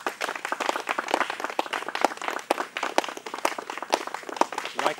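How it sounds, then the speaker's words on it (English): A small group claps for themselves during a Jungle Search Africa reality show session, individual claps clearly separated in a loose, uneven rhythm, close and fairly light. "A round of applause for yourselves."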